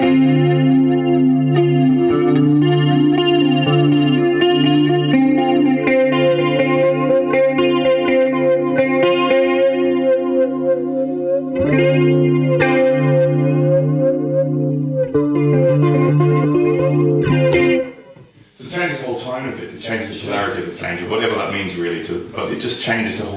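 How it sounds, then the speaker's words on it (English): Electric guitar through a Chase Bliss Audio Spectre flanger, a sustained chorused tone with a sweeping shimmer that shifts sharply to a thinner, hollow, phasey sound after the polarity switch, loud and continuous. "So let's just switch the polarity"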